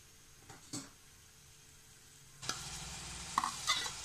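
Ginger goes into hot coconut oil in a pan, bringing a few soft scrapes and then a sudden, steady close sizzle that continues with occasional sharper crackles and spits.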